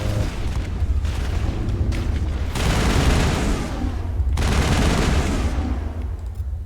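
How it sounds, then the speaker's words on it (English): Rifle gunfire and explosions in the sci-fi shooter game Mass Effect, a dense, continuous barrage of loud shots and booms filling the whole stretch with no letup. "So I have to run away and use my rifle."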